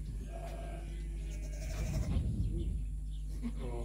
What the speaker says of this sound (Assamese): এয়া সদ্য মাতৃত্বপ্ৰাপ্ত কেইজনীমান ভেড়া